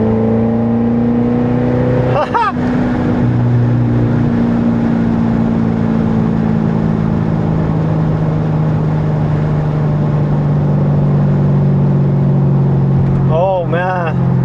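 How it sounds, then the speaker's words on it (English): A C7 Corvette engine drones steadily at high volume, its pitch shifting as it revs, with brief gear-change roars near the start and end. "Acceleration!"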